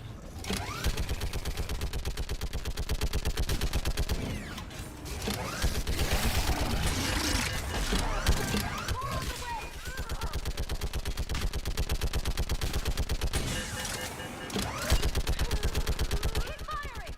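Mass Effect 3 battle gunfire, dense rapid machine-gun bursts hammering almost without pause, loud and close with engine rumble beneath, while voices shout over the shooting.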